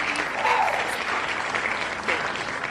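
Steady applause from a crowd fills the whole stretch, broad and continuous, with faint voices mixed in.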